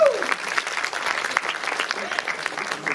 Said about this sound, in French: Applaudissons maman Dada.